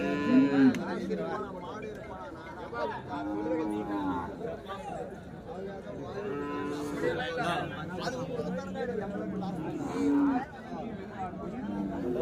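Cattle lowing now and then at the Kundarapalli livestock market amid a busy outdoor crowd, with people chattering and calling throughout and livestock moving about.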